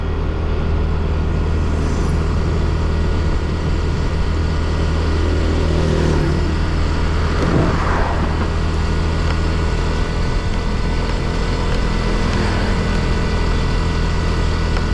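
Motorcycle engine droning steadily while riding on a country road in a Philippine province, loud and close with constant wind rush and slight rises in revs, no talking.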